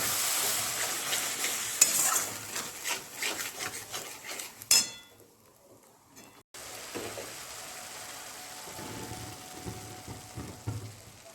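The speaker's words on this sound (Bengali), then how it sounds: "জল দিচ্ছি কষাবার জন্য।" Spices with added water being stirred in a frying pan for a Bengali egg dish: scraping spoon strokes and clinks sizzle over hot oil, pausing briefly before steady frying and stirring resume.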